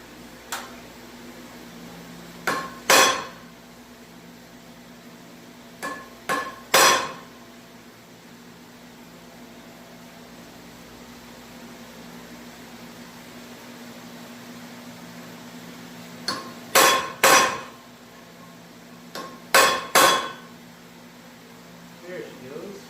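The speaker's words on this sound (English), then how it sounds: "This one's not snapping in all the way, so I gotta give it a tap with the hammer." A hammer taps a part to snap it fully into place: pairs of sharp, close knocks come in a few separate bursts, with quiet background hum between them.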